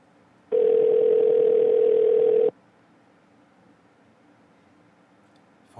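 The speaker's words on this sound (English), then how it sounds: "Phone is ringing." Ringback tone of a telephone call being placed: one steady electronic tone lasting about two seconds, then quiet line hiss.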